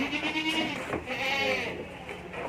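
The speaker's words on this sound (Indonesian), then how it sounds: "Tunjukin, ini namanya Sanen, kambing Sanen." A Saanen dairy goat at an Indonesian farm bleats in one long, loud, wavering call held close by, with a strained, nasal quality and no talk over it.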